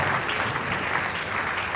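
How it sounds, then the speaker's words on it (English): An audience at a live event claps steadily after a guest is invited to the podium, a dense continuous wash of many hands at even loudness throughout, with no talk over it. "Please let's give him a round of applause."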